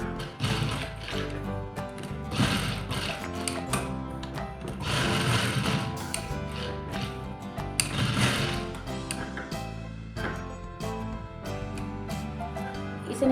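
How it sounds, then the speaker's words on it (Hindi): A sewing machine stitches steadily along the edge of a ladies' shirt, running continuously at a moderate level with a busy mechanical chatter throughout. "अब हम इसके किनारे किनारे एकदम सिलाई लगाएंगे।"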